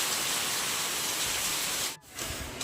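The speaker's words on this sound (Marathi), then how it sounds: "मुसळधार पाऊस पडतोय" Heavy monsoon rain pours down in a dense, steady hiss, broken by a brief dip near the end before the downpour carries on.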